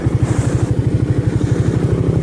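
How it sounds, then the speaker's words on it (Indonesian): A motorcycle engine runs close by with a steady, throbbing low pulse that continues without a break and sits loud and near throughout. "di belakang ada motor."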